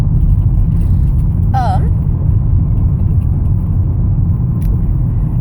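Steady low road rumble and engine drone fill the cabin of a moving car, continuous and fairly loud, with a brief chirp partway through.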